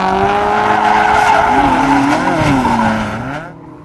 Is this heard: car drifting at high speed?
yes